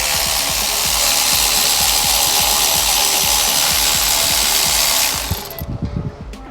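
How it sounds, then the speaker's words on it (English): A 10mm wrench loosens the alternator adjuster on a Honda Accord, with steady rapid clicking under a loud, continuous hiss that cuts off near the end. "then we can use a 10mm and loosen the front part of the adjuster"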